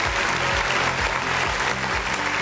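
Crowd at a live show applauding and cheering two performers on a host's request for more noise: continuous, loud clapping with crowd noise over a steady rhythmic music beat.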